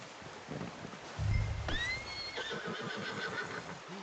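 A horse in the video game Red Dead Redemption whinnies once, a rising then falling neigh, with soft hoof clops and quiet background sounds around it.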